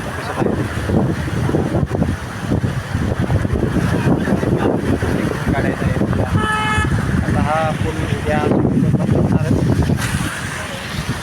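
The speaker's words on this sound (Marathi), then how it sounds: "कशा आहेत पाण्याच्या लाटा" Floodwater of the Panchganga river in Kolhapur roars loudly and continuously beneath a bridge, with wind buffeting the microphone, a brief vehicle horn toot and someone talking over it.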